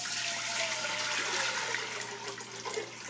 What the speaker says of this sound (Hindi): 5 गिलास पानी के डाल दिए हैं।